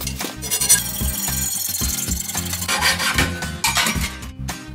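A hacksaw cuts through a length of metal conduit clamped in a vise, a steady rasping back-and-forth stroke close up, continuous and fairly loud with no talking.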